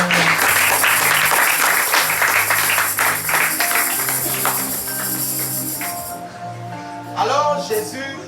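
A church congregation claps in sustained, dense applause that gradually thins out, with voices and music rising near the end.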